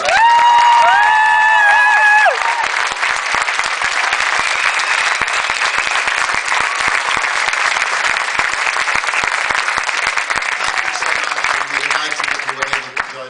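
An audience applauds at the end of a stage performance. A final held note gives way to loud, sustained clapping with some cheering, which fades slightly toward the end as talking begins.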